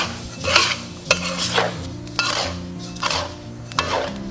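Flour is stir-fried in a dry pan for sesame paste, the spatula scraping and clattering against the metal in repeated rhythmic strokes, close and fairly loud over soft background music.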